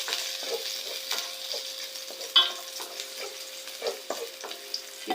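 Garlic sautés in a hot pan for a Filipino dish, with a continuous light sizzle broken by stirring clatters and scrapes, close and moderately quiet with no talk.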